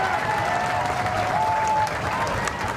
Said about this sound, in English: Heyman getting a round of applause from this Canberra United crowd.